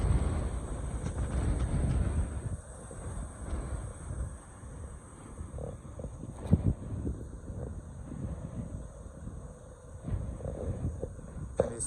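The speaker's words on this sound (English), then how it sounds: "Windy today." Gusty wind blowing outdoors by a river after rain, a steady low rumbling buffet that rises and falls in gusts, with no talking.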